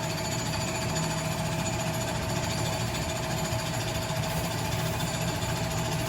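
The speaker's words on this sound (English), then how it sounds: "let's wait for ignition. It's coming. I hear it coming." A natural gas pool heater set to 68 degrees fires up, giving a steady, loud broadband roar with a constant hum and rattling texture that runs unbroken from start to finish, with no voices.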